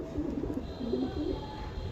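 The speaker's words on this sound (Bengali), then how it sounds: "এটা একটা মাঝারি সাইজের কবুতর।" A medium-sized pigeon, moulting around the neck, gives low, soft cooing calls in a few short rolling phrases over a steady background hum.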